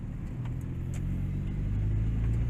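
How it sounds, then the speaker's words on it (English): A car on a track-day circuit rumbles past, a steady low engine drone building slightly louder toward the end, with no talking. "yeah, because there's a car there."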